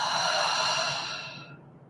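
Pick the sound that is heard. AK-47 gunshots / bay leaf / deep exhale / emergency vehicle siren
deep exhale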